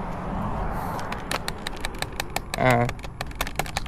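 A low motorcycle engine idles steadily while sharp, rapid clicking rattles from a loose part repeat over it, with a brief louder buzz partway through.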